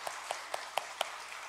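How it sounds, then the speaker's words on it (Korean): Faint hand claps in a church during an Easter service, five sharp evenly spaced claps in a quick rhythm over a quiet room, then stillness. "하나님께 영광의 박수"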